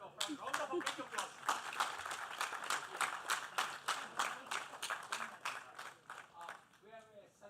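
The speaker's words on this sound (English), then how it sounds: "Yes, round of applause." Audience applause at a diabetes management app launch event, a run of steady hand claps lasting several seconds and fading toward the end, with voices mixed in.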